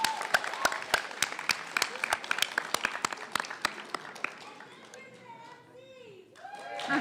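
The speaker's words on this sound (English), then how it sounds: "can we get one last round of applause for all our poets today" Students and audience at a grade 9 and 10 spoken word event break into scattered clapping, sharp hand claps over chatter and children's voices that take over as the applause fades toward the end.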